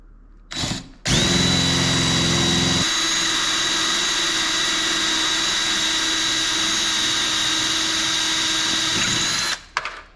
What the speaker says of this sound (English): Drilled the head right off of there.